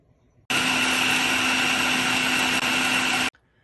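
A blender or food processor whirs steadily for about three seconds while mixing raw vegan chocolate ingredients with carob powder, starting and stopping abruptly with a constant high whine.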